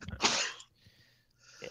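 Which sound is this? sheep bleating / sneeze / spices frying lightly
sneeze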